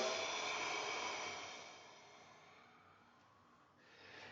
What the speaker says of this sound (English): Take a nice deep breath in. Exhale for 5.